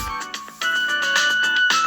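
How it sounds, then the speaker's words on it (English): A school lunch bell rings as a chiming electronic tone, a few rhythmic melodic notes repeating close by, clear and alone with no voices. "The lunch bell rings, and I start to leave my class."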